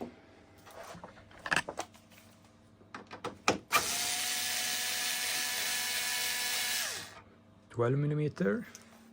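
Twelve-millimetre screws on a BMW F 900GS motorcycle fairing loosened with a power tool: clicks and handling knocks, then a steady high whir lasting about three seconds, followed by brief voice-like bursts.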